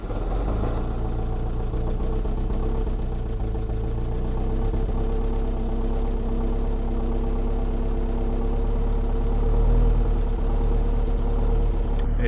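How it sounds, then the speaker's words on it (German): A vehicle engine runs in the cold at high altitude in Bolivia's Salar de Uyuni region, idling with a steady, rough low drone and slight knocking, loud and continuous with no talk. "Und jetzt werden wir mal schauen, wie gut der Motor anspringt."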